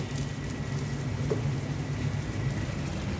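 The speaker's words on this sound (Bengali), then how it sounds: "নাস্তা বানানোর জন্য চলে আসলাম ডিম ভেজে নিচ্ছি" Eggs frying in a pan give a steady, close crackling sizzle like light rain, unbroken for a few seconds.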